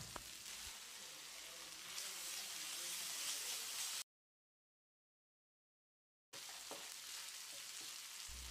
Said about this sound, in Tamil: இப்போ இதோட 2 டீஸ்பூன் அளவுக்கு இஞ்சி பூண்டு விழுது சேர்த்து பச்சை வாசனை போகிற அளவுக்கு வதக்கிடலாம்